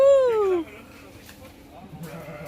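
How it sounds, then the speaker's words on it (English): A goat gives one loud, close, wavering bleat that quickly trails off, followed by low background noise and faint murmuring voices. "You guys have goats here?"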